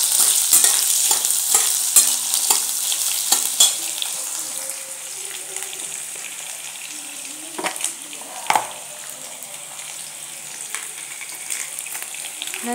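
Onion frying in oil in a pan for a vegetable dish, a steady close sizzle with repeated sharp scrapes and taps of a spoon stirring, busier at first and then settling into a continuous hiss.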